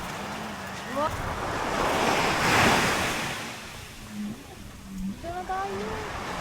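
Surf washing onto Saud Beach in Ilocos in a steady broad wash, swelling in the middle, with wind and a few people talking over it.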